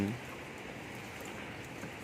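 Rain falls steadily during a morning walk outdoors, making a continuous broadband patter with an even loudness and no distinct individual drops.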